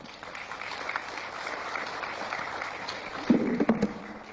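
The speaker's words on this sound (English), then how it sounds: "So a big thanks to the panelists, and a round of applause." Conference audience clapping for panelists after a capital markets discussion: a soft, even wash of applause from a room of listeners, with a few louder bumps near the end.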